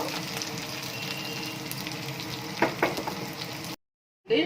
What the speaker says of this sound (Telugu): ఆనియన్ కూడా వేసేసేయాలి ఇవి బాగా ఫ్రై చేయాలి